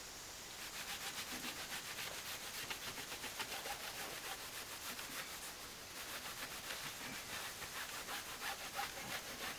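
Steady back-and-forth rubbing strokes on the surface of a Shark catamaran's centerboard, working a sticky layer off; a continuous, close, rhythmic abrasive hiss with no talking.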